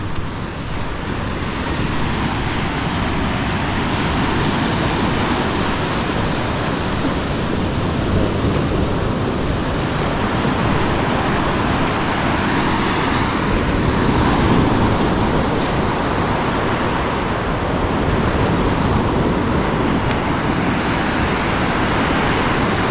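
Sea waves wash steadily by a beach cottage in a broad, continuous roar that stays loud and even throughout, with no voices over it.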